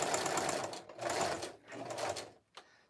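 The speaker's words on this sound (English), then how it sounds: "And I have just a regular straight line stitch here we're going to sew." A sewing machine runs a straight stitch through a fabric jelly roll rag rug in close, rapid mechanical bursts, three stitching runs separated by short pauses, with a brief click at the end.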